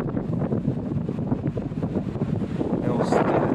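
Wind blows steadily through an abandoned, reputedly haunted hospital in Mokrzeszów, a dense rushing roar that stays loud throughout with a few gusty swells, close to the microphone.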